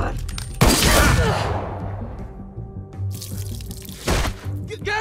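Gunfire from The Walking Dead: Michonne video game cracks out in two loud bursts, the first trailing into a fading echo before a second sharp volley a few seconds later.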